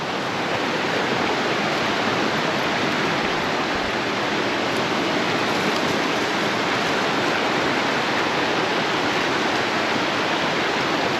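A Cape Breton waterfall and river roar in a dense, unbroken rush of white water, loud and close, with no voices audible.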